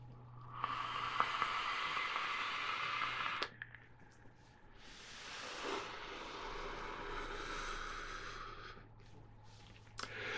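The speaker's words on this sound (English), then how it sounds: "let's have a little toot, a little vape break, shall we?" Vaping on a rebuildable tank atomizer with a 0.12 ohm tricore fuse coil at 96 watts and airflow wide open, two long airy draws with a breathy hiss, the second softer and swelling, close and alone.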